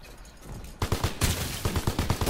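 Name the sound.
gunfire in Call of Duty video game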